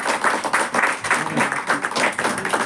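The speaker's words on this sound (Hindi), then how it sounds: "सभी लोगों की तरफ से मैं चाहता हूँ एक बार जोरदार ताली से" An audience at a Hindi-language talk bursts into strong, sustained applause, a dense, loud patter of many hands clapping in waves throughout.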